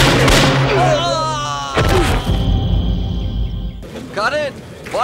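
Gunshots ring out in a dramatic Tamil film scene: two sharp, loud broadband bangs about two seconds apart, set among excited voices.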